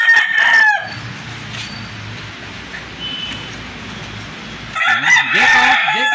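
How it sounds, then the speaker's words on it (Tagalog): Roosters crow loudly at the start and again near the end, with clucking chickens and faint rumbling background noise in between. "Jeko, Jeko, tingnan mo yung mga manok dito, o."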